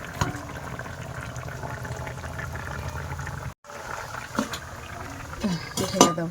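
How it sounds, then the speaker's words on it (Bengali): Fish curry broth with taro root boiling in a pot, a steady low bubbling simmer that runs throughout with a few clinks of utensils against the pot near the end. "এই যে তরকারি ঝোল ফুটতেছে"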